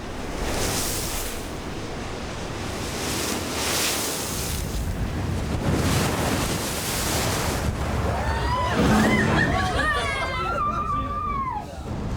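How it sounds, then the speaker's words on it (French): Powerful westerly wind sweeps across the Normandy seashore, roaring steadily over crashing surf, while a voice speaks underneath toward the end. "Ce soir, le vent est puissant et se maintient à l'ouest."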